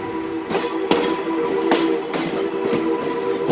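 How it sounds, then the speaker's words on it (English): The Lumberjack Steam Train in Laona, Wisconsin rolls along with its steam locomotive, the cars giving a steady rumble and rhythmic clacking heard from on board, close and continuous. "steam locomotive"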